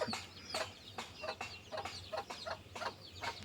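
A chicken clucks in a steady series of short, sharp calls, close by, about two per second, with little else around.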